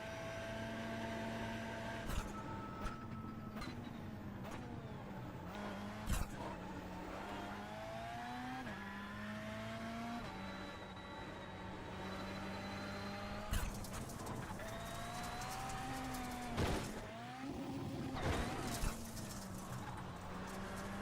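A race car laps in the iRacing sim, its engine droning steadily and rising and falling in pitch through gear changes, with occasional sharp clicks and thumps over the continuous motor sound and no talk.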